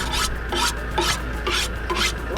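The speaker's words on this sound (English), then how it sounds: "Sharpening the knife on the window." A hunting knife is drawn repeatedly across window glass, with five rhythmic rasping strokes at close range and no voices.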